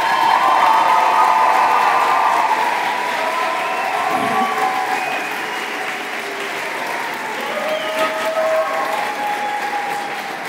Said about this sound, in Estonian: Teeme ühe hästi suure aplausi.